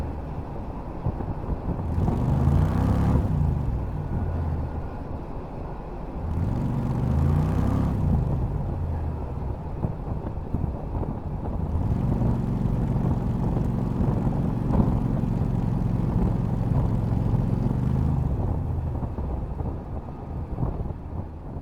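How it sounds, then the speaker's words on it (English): A Renault fitted with a 670cc Predator engine drives with a slipping CVT belt drive. A steady engine drone runs under wind noise, and the engine note swells and shifts in repeated surges as the drive cuts out and catches again. "there's definitely something wrong with the CVT belt drive. It seems to disengage for a few moments and then re-engage."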